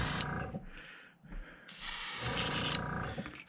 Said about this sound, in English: didn't put much paint in there because I knew I didn't have much to spray